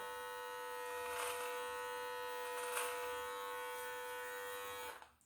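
Electric hair clippers buzz steadily while trimming a beard, a close, even motorized hum with slight swells as the blades pass through hair, then cutting off near the end; no talk.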